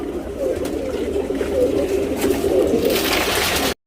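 A male tournament racing pigeon coos close by in a soft, repeated throaty burble that lasts for several seconds, with light background noise and no clear talk.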